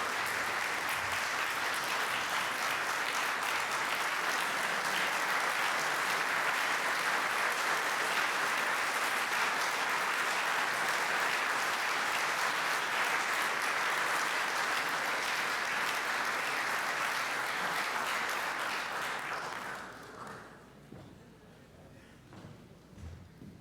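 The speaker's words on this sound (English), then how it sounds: "A well-deserved round of applause" A large symposium audience breaks into sustained applause for a keynote address, a thick, even roar of many hands clapping for about twenty seconds before it abruptly dies away to quiet room noise.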